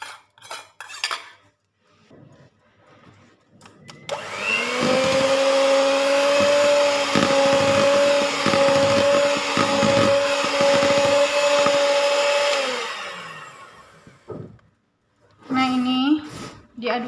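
An electric mixer beats pandan sponge cake batter at low speed, a steady whining motor hum lasting several seconds, with brief clinks and clatter of utensils before it starts and after it stops.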